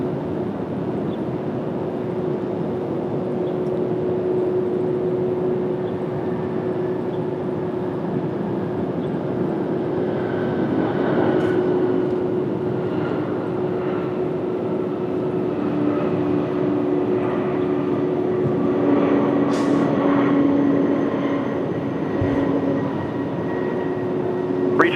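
A jet airliner takes off from runway 19 left at Washington Dulles on a cloudy day, its roar steady and broad at middle distance, swelling gently, with no talk.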